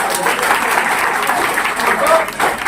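Loud, dense clapping from a gathered crowd, steady for a few seconds with slight swells, voices mingling within it.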